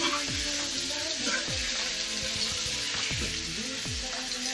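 Tomatoes and turmeric sizzle in hot oil for a mushroom curry, with a constant bright crackle and a few scraping stirs of a spoon against the pan.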